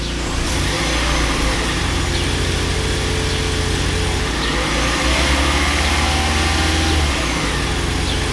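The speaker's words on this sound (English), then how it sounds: "And now we'll have a listen to the exhaust." A Toyota Prius engine runs steadily at idle, its low exhaust rumble continuous and close, with slight rises in revs and no talking.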